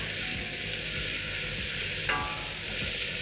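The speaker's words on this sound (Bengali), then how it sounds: "খুব ভালো করে এবার সবজিগুলোকে ভেজে নেব।" Pumpkin and potato pieces with green chili, salt and turmeric fry in a pan, giving a loud, continuous close sizzle with a single clink of a stirring utensil partway through.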